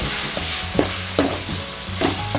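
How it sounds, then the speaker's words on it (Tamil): Tomatoes sauté in a pan for a Tamil-style egg masala, with a close, even sizzle broken by a few spoon scrapes and no voices. "கொஞ்சம் வதங்கிடுச்சுன்னு தக்காளி சேர்த்துக்கலாம் தக்காளி நல்லா வதங்கிட்டு"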